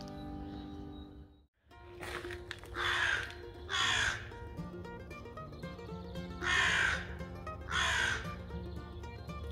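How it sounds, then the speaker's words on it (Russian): A crow caws four times in two pairs, harsh and fairly clear, over a low background hum with no talking. "Кому не видно, это Алиса, это ворона, знакомая Алиса,"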